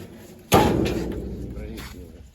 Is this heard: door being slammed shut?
yes